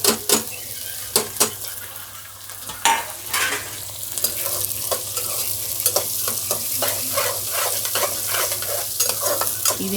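Green chillies and onions frying in a pan for liver curry, an even crackling sizzle punctuated by a quick series of loud metal scrapes and knocks from stirring, then steady frying with lighter stirs.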